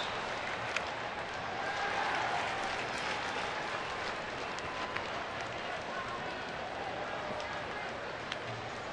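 Baseball crowd in a Texas ballpark cheering and applauding steadily for about nine seconds, a broad, distant roar of many fans with scattered claps and shouts and no clear talk.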